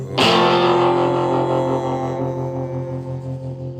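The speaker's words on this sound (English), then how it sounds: "And that organ sound." A BOSS GT-10 guitar effects processor set to an organ sound: a single sustained, distorted organ-like chord that starts sharply and rings out slowly, steady and loud, alone.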